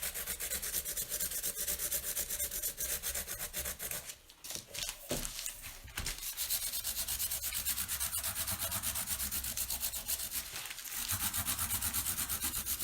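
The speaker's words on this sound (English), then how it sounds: "And you do get your workout in sanding." Steady back-and-forth rasping of sandpaper scraping over wood, with a brief pause partway through before the strokes resume at the same close, even pace.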